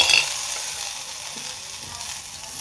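Four chilies frying in hot oil for a Tulu home-cooked dish, giving a steady, close crackling sizzle that fills the whole stretch with no talking.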